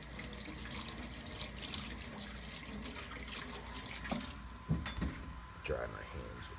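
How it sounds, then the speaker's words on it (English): Hot tap water runs into a sink while a polished copper cookie cutter is rinsed, a faint steady splash with a few clinks and drips near the end as someone talks. "You can rinse that with some hot water."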